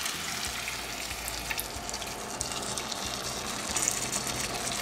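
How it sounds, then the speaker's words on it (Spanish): About half a cup of water is poured into a pot of Peruvian chicken stew and hisses and sizzles against the hot base in a steady, close rush with no talking. "Yo le voy a poner ahora sí una media taza de agua"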